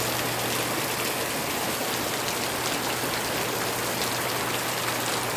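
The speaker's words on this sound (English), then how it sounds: "Thanks for the prayers for the rain, Gio." Rain pours down on a rainy day as a loud, even hiss of dense drops that stays constant throughout, with no talking.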